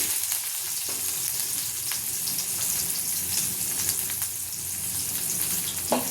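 Onion, ginger-garlic paste and chopped chilli frying for street-style Amritsari paneer bhurji, a dense, constant loud sizzle filling the whole stretch with faint scrapes, no voices.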